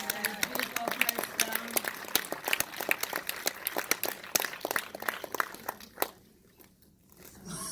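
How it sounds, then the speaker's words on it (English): Audience at a Q&A event applauds a man with dense, rapid clapping for about six seconds, cheering mixed in, before it drops off abruptly into near quiet. "Can we give this gentleman another round of applause?"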